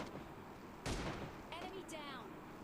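A single sharp rifle shot from an M24 in PUBG Mobile Lite cracks out loudly against steady game ambience, followed by fainter mechanical rattling and clicking.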